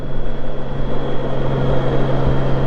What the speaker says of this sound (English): fan kicking in the background on this.